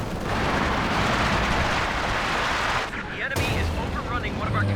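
Dense rattling gunfire from rangers in the Company of Heroes 2 video game fills a continuous battle din, with a brief dip before the shooting resumes.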